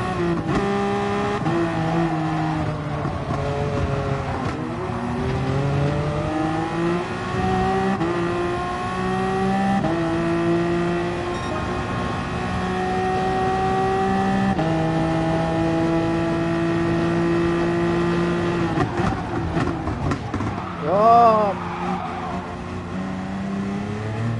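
A GR1 race car engine in Gran Turismo Sport revs hard and continuously, its pitch sweeping up and down through gear changes, loud and close throughout, with a brief sharp rising whine near the end.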